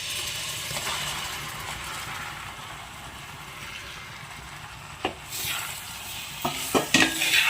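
Chopped lemons are stirred into a spice mix in a pan for lemon pickle, a steady soft sizzle with a few sharp scraping knocks of the spoon toward the end.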